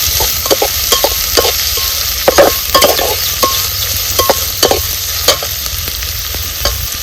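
Onions frying in oil for a village-style vajri masala, stirred with a spoon in a pan over an open wood fire; a steady sizzle runs throughout, broken by repeated sharp scraping clicks of the spoon, close and fairly loud.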